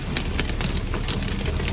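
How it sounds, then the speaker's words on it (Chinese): Hail and heavy rain hammer a car driving along a coastal avenue in Qingdao during a sudden storm, a dense rapid patter of hard impacts drumming loudly on the body over the engine. "我的天，冰雹！"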